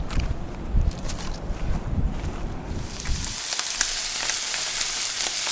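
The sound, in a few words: steak cubes and eggs frying for brunch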